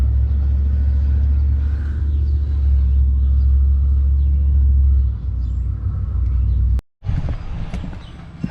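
Deep, loud rumble of a Ram 1500 EcoDiesel pickup engine with a new downpipe and full delete, idling close by, steady and throaty, cut briefly by a sharp break before the engine noise returns.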